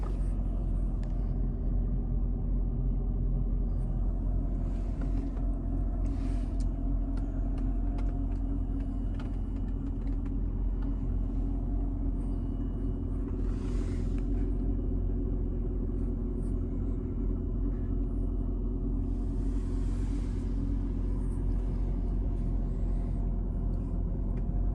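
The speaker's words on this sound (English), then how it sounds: "Right now, I am driving in Cincinnati" Inside a moving car in Cincinnati, a steady low road rumble and engine drone fill the cabin, with occasional brief hisses and swells from passing traffic.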